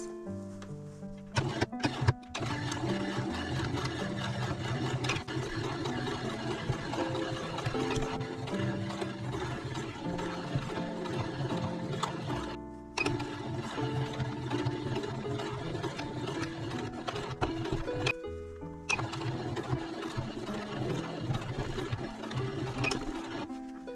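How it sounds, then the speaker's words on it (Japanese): A sewing machine runs steadily, stitching along the edge of a quilted pouch, its needle chattering in a fast, even rhythm at close range, pausing briefly a few times before starting up again. "ここまた端ミシンかけます。"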